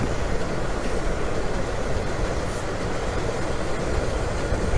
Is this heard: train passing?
yes